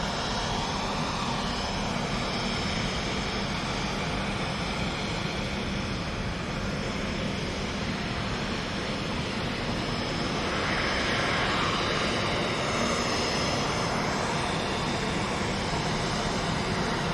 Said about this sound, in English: EasyJet did apply some thrust there initially